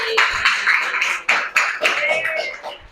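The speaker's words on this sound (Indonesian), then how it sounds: "beri aplaus dulu untuk kelompok" Audience clapping for a student group's presentation in a classroom, a short burst of scattered hand claps of moderate loudness mixed with voices.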